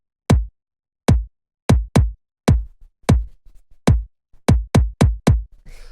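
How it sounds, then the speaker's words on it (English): Punchy kick drum sample for deep liquid drum and bass, a dozen deep thuddy hits with sharp attacks in an uneven groove, loud and dry with no other sounds between them. "After that we have this kick, which sounds like this."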